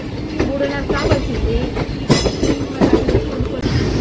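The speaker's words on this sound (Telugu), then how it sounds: "ఇప్పుడు ఒక ఎల్హెచ్పి ట్రైన్ వచ్చింది." An LHB passenger train rolls through Gudur Junction station close by, with loud rumbling and repeated clickety-clack wheel beats. Sharp metallic squeals cut in over the steady rail noise.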